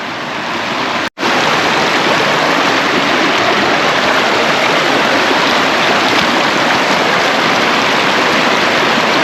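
Rushing river water, part of a walk around the High Force waterfall in Teesdale, England, roars as a loud, steady broadband wash up close, with a single brief dropout near the start and no talk.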